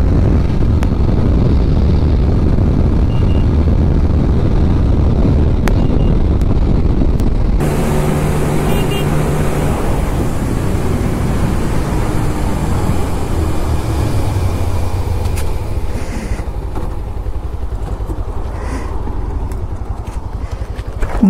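A Bajaj Pulsar 125 motorcycle engine holds high revs around 9,000 RPM, producing a loud, steady drone with wind rush throughout, and a tonal shift partway through.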